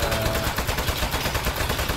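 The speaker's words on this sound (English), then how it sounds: "I can't hear you with all the gunshots. Bullets blazing everywhere." Rapid gunfire in the video game Aperture Desk Job rattles continuously at close range, dense overlapping shots forming a loud, unbroken barrage.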